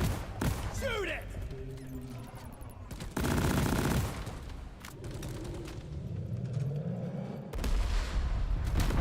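Gunfire in Deep Rock Galactic: bursts of dense, sustained shooting and explosive rumble, loud and close, mixed with mechanical whirs and creaks, while a voice talks over it.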